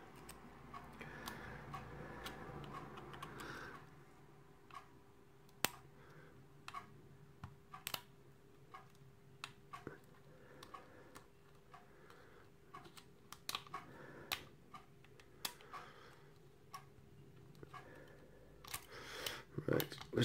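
A lock being picked with a homemade tension wrench cut from a window wiper insert and a small hook, on a kite-marked 1-star euro challenge lock; faint close clicks and ticks scattered across a quiet background, with soft talk early on.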